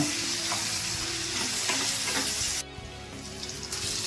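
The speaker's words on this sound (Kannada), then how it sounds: "ಇದಕ್ಕೊಂದು ಅರ್ಧ ಟೇಬಲ್ ಸ್ಪೂನ್ ಅಷ್ಟು ಅರಿಶಿನ ಹಾಕೊಳ್ತಾ ಇದ್ದೀನಿ. ಎಲ್ಲ ಹೊಂದ್ಕೊಂಡಂಗೆ ಮಿಕ್ಸ್ ಮಾಡ್ಕೊಂಡ್ಬಿಡೋಣ." Turmeric stirred into a sizzling tempering in a pan, a steady close crackle and fry hiss with scraping stirs, easing off slightly near the end; no talk.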